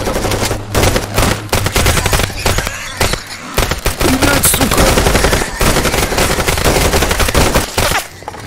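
Rapid bursts of automatic gunfire from S.T.A.L.K.E.R.: Call of Chernobyl while defending the Barrier, loud and sustained across the whole stretch, with brief gaps between volleys and no talking.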